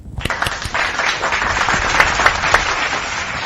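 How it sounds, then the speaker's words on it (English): A crowd applauding loudly, dense steady clapping with a few sharper claps standing out, continuing for several seconds. "that clapping was a little bit too loud for me"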